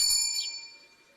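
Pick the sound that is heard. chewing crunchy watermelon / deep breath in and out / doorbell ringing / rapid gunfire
doorbell ringing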